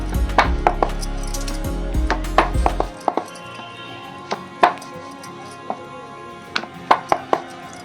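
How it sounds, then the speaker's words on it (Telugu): Methi paratha dough being rolled round with a rolling pin on a board, a series of sharp irregular knocks and taps, close and clear, with a low hum in the first few seconds and no talking. "ఇప్పుడు చపాతీ ఒత్తుకుంటామండి. ఇలా చపాతీ రౌండ్గా చేసుకోవాలి."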